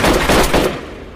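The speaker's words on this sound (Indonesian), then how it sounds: "Dan pendeta Elias akhirnya tewas ditembak." Gunshots in an action film, a quick loud burst of several close shots lasting well under a second and then dying away into a short fading tail.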